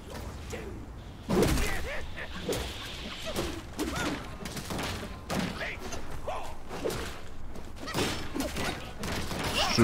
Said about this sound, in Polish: Trochę tych strzał tu leci.